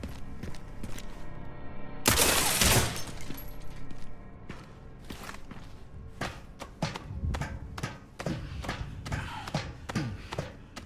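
Gunshots fired at a ladder in the survival horror game Resident Evil Requiem, a loud sharp burst followed by a string of lighter thumps and taps in a quiet interior.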